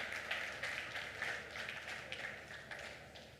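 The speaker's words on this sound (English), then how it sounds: "Yes, you can clap." Audience clapping at a Google for Africa 2022 keynote, fairly quiet and distant-sounding, a brief steady patter of hands lasting a few seconds.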